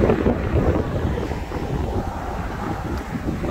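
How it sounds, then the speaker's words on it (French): Strong wind during a severe thunderstorm buffets the microphone in a constant roaring rush, with a broad wash of noise like water nearby and no voices. "il y a un peu beaucoup de vent là."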